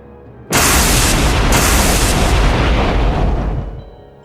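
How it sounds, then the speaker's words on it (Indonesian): A sudden thunder blast bursts in at full loudness as one dense, crackling roar, holding steady for about three seconds before rolling off and fading out. "Guntur meledak di telapak tangannya."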